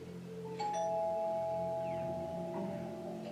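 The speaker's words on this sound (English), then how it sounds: "Doorbell looks like I have to go." A doorbell chimes once with a clear, sustained two-tone ring that lingers and fades, heard indoors with no talking.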